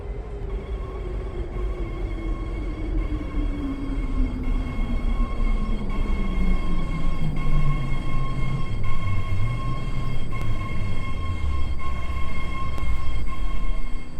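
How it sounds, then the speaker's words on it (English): A BART train pulls into a station platform, its descending whine and steady rumble swelling as it nears over about fourteen seconds, with faint high tones above and no talking. "San Francisco Airport train now approaching platform 2."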